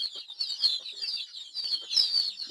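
A brood of native chicks, about a month old, chirps continuously at close range in a dense, high-pitched peeping chorus with overlapping calls and no talking.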